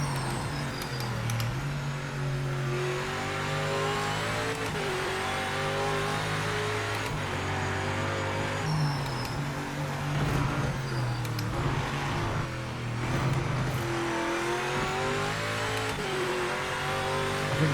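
Hypercar engine in the Project Motor Racing sim revving hard and steadily for the whole stretch, its pitch rising and dropping through gear changes, loud and close with no talk over it.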